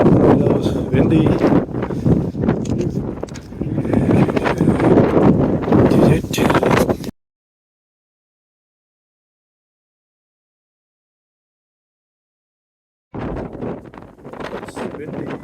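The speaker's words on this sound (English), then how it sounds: "It's windy." Gusty wind buffets the microphone near a lighthouse in Kristiansand, Norway, a loud roaring rush with a sudden cut to silence midway before the blowing resumes.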